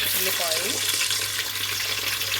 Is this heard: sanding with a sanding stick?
no